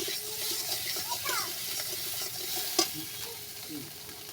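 A spatula scrapes and stirs fried spices with turmeric and salt in a pan for fish curry, over a close, steady sizzle with a few louder knocks.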